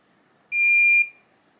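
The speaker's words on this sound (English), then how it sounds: "get yourself ready, and it will beep" A FieldTech Systems TrapLink Wave remote control gives one clear electronic beep, about half a second long, close and alone against near silence.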